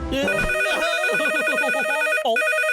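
A cartoon telephone rings with a steady electronic trill, loud and close, its warbling tone repeating without pause.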